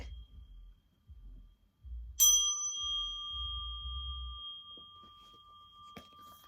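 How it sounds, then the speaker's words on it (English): A single bright bell ding rings out after a few soft thuds and rustles as something falls on the bell, its clear tone sustaining and slowly fading for several seconds. "I wasn't aiming to ring the bell, but something fell on it."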